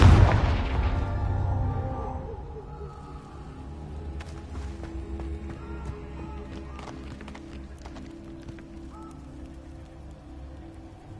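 A Confringo spell explosion in a video game: one loud boom at the start decays into a long rumbling tail, followed by quieter scattered game sounds.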